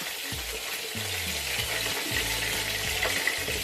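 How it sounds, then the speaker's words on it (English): Dark soy sauce goes into chicken spaghetti with vegetables frying in a pan, giving a steady close sizzle with stirring and scraping sounds throughout and no voices. "Now in this stage we're gonna add some dark soy sauce"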